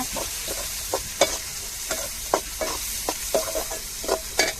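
Chopped garlic and tomato fry in a pan under a steady close sizzle, punctuated by frequent rhythmic scrapes and taps of a spatula stirring every half second or so, with no voices.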